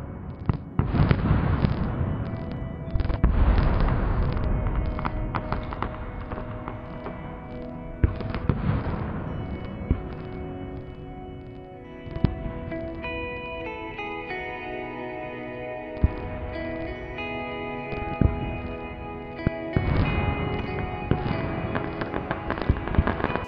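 Large fireworks burst at a church celebration, with repeated heavy booms and sharp cracks echoing, crackling tails between blasts, loud and sustained throughout.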